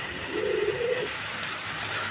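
Koka pigeon pair nesting with eggs gives a single soft, low cooing phrase early on, fairly close, over a steady background hum, then quiet.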